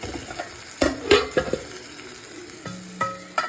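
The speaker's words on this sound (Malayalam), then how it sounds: "ഇങ്ങനെ കരൾ ഫ്രൈ ചെയ്തെടുക്കാൻ പറ്റത്തുള്ളൂ." Liver frying in a pan with chilli powder and green chillies, a steady sizzle under several clanking strokes of a spoon or spatula stirring against the pan, close and clear.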